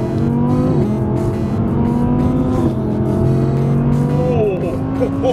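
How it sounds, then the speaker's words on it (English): Audi R8 engine on light throttle, a loud continuous drone with shifting pitch that rises in short pulls and drops between them, heard from inside or beside the car. "that's only a tickle of throttle"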